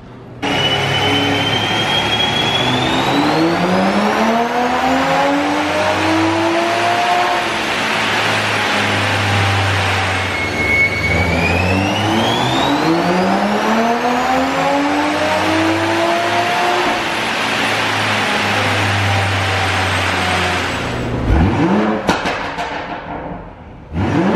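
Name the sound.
tuned car engine revving during dyno runs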